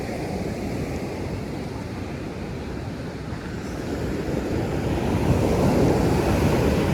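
Storm-surge waves crash and wash up a beach lined with coconut trees, a constant loud roar of surf with wind buffeting the microphone that builds toward the end.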